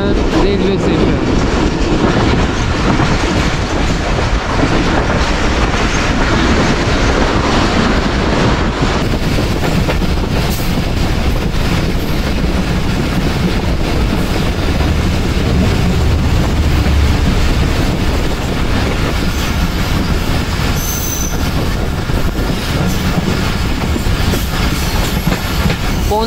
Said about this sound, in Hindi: पौने 6 बजे ट्रेन रोहड़ी पर अप्रोच बना चुकी है